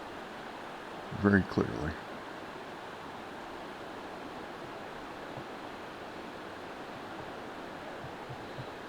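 Steady broadband rush of distant waterfalls along New York Creek in rainy weather, heard from a couple hundred feet away as a constant wash of water noise, with a brief burst of a man's speech near the start.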